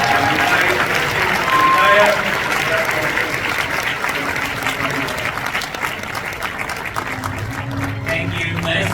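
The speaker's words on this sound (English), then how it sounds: "Let us give another big round of applause once again to Chief Minister Ahmad Ibrahim" An audience at a peace summit anniversary ceremony applauds steadily for several seconds, a dense sustained clapping from a sizable crowd, with a voice talking over it near the start.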